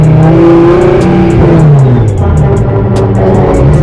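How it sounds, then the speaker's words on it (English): A loud Nissan Skyline R34 sedan engine revs hard and continuously, its pitch rising and falling through sequential gear changes, close and dominant throughout. "the noise so loud. That noise? Race car noise."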